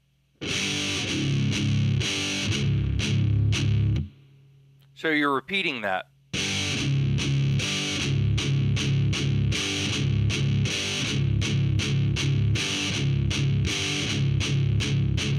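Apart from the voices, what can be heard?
heavy metal guitar palm-muted downstroke chunks on low strings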